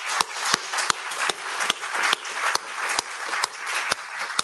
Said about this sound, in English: one final round of applause to thank our speakers